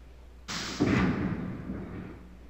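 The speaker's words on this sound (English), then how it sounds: "Yep, the cannon fires." A cannon in the video game Myst fires: one sudden booming blast with a heavy low thud that decays over about two seconds, heard alone.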